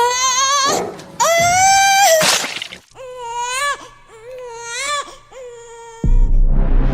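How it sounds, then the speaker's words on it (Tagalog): A newborn baby cries loudly in repeated wailing bursts, with brief pauses between cries, in a rural village setting. "Umalingaw-ngaw sa buong baryong malakas sa iyak ng sanggol."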